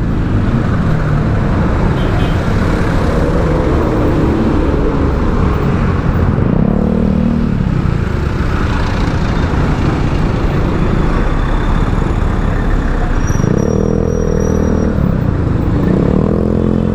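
Dense traffic noise while riding toward Makati on Osmeña Highway: constant loud engine and road roar, with passing vehicles swelling and fading a few times over the span, and no voices.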